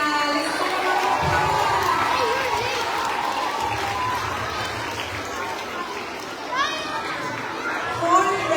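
Elementary school assembly crowd applauding music award winners, a dense, sustained roar of clapping and children's voices with shouts rising near the end.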